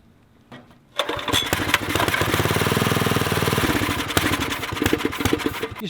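A small carburetor engine, primed by spraying starting fluid into the carburetor with the choke off, fires abruptly after a second of near-quiet and runs with a steady, loud, close chugging drone for several seconds.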